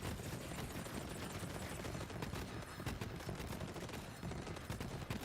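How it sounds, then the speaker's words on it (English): Rapid gunfire and grenade explosions in a video game make a dense, continuous crackle of shots and bursts, a faint and steady barrage with no voices. "as long as I keep the grenades thrown, you can see all the explosions"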